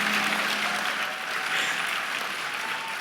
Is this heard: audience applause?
yes